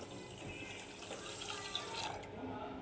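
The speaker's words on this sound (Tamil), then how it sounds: "இப்போ அதே கிளாஸால் ஒரு கிளாஸ் தண்ணி" A glass of water is poured into a pot holding a glass of sugar to make syrup for mini jalebi, a steady splashing pour close by that runs for nearly three seconds.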